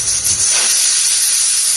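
A pressure cooker holding banana flower lets off a loud, continuous hiss of escaping steam, a sharp whistle-like rush that holds steady for under two seconds.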